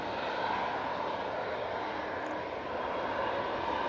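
A TUI airliner begins its takeoff roll at Manchester Airport in stormy weather, a steady broadband jet engine roar with wind noise, fairly loud and continuous throughout, with no talking.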